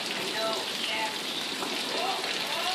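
Heavy, drenching late-May rain just outside San Antonio, Texas, a steady dense hiss of drops pounding surfaces, loud and continuous with no pauses and no talk.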